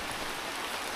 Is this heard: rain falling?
yes